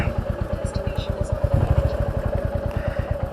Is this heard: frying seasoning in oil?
no